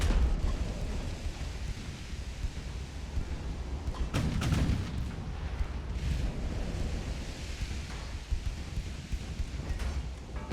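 Naval gunfire from battleship guns in the Ultimate Admiral: Dreadnoughts game, heavy booming blasts over a constant low rumble, with one stronger burst of reports standing out midway through.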